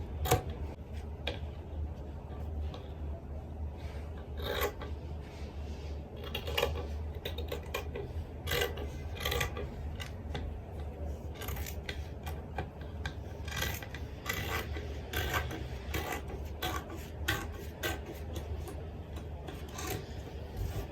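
Fabric for a bubu gown is cut out with scissors, a long run of small snipping and rubbing ticks at an irregular pace, close but quiet over a low steady hum, with no talking.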